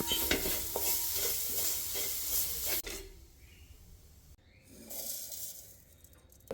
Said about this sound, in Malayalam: കുറച്ച് തേങ്ങ നമുക്ക് നല്ല രീതിയിലൊന്ന് വറുത്ത് റെഡിയാക്കി എടുക്കുക